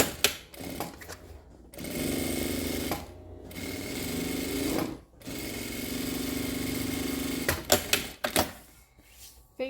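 A sewing machine runs in bursts while stitching a straight seam on the lining of a laptop case, with short pauses and a few clicks between the runs.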